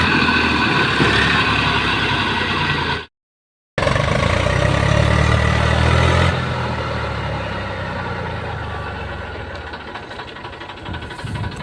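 A farm tractor stuck in mud in a field runs with a constant loud engine drone, briefly cutting out to silence before resuming and gradually easing slightly in level, with no talking over it.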